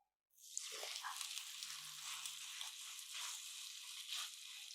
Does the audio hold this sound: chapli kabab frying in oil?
yes